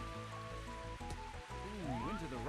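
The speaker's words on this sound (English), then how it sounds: "Oh, it's raining, because why wouldn't it be?" Steady synthesized rain falls throughout a round of Mario Golf 64, a continuous wash under layered game music with a rising melodic sweep near the end.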